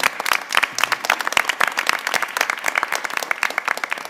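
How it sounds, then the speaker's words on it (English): At a December 2024 Board of Trustees meeting, a modest group in the room gives a round of applause, with the separate claps of individual hands audible throughout. "We can give him another round of applause, I think."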